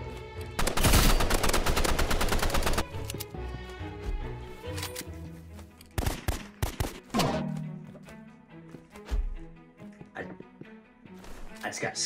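Gunfire in the video game Roblox Rivals, including sniper shots: a loud rapid burst of shots up front, then scattered single cracks, with game sounds and voices talking over it.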